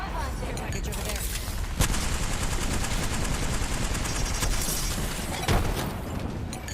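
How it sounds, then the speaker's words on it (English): Rapid automatic gunfire in an Apex Legends match rattles loud and dense, with a few sharper cracks standing out from the continuous volley. "They spotted me. I'm taking shots."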